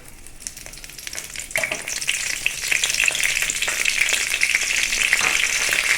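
Cardamom, cloves, star anise, cinnamon and bay leaf sizzle in hot oil for mutton kuzhambu. The frying is quiet at first, then jumps to a loud, steady crackle with fine pops, and no one speaks.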